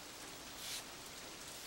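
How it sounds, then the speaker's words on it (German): Steady rain falling and pattering on a surface, a continuous even hiss with a brief swell in the middle, no voices. "Es regnete und regnete"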